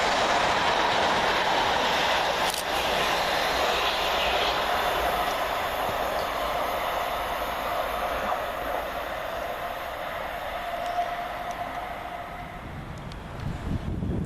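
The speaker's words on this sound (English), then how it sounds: "Next train down for Southern is 377602 and 377603, working 1P29 from London Bridge to Caterham and Tatnam Corner." Southern Class 377 electric multiple units 377602 and 377603 roll through Anerley station, a loud, steady rail rumble with clickety-clack wheel beats and a faint squeal, fading slightly near the end, with no talking.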